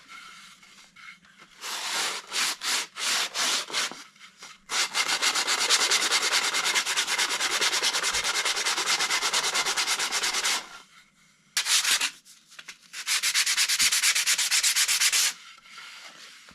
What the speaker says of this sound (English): I take a 60 grit and I soften everything, and then I touch it with a 100